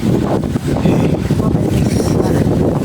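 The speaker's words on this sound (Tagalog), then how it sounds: "Oh, lakas ng hangin." Strong, cold night wind buffets the microphone in a continuous loud, rumbling roar with no pauses.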